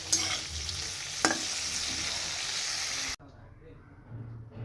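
Cauliflower frying with spices in a pan while being stirred, a steady sizzle with a scrape of the spoon, then the sizzle drops away sharply to a quieter hiss near the end.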